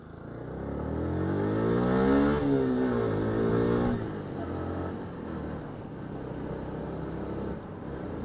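A Yamaha YZF R125 motorcycle accelerates, its engine note climbing loudly through the revs, then easing back to a steadier, quieter riding drone.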